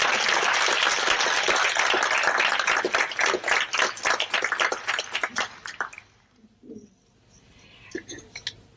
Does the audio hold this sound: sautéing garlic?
no